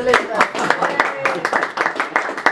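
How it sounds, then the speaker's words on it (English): A studio audience breaks into a round of applause, with dense, steady clapping running throughout and a voice speaking over it. "I think we should have a round of applause for Elizabeth Grace"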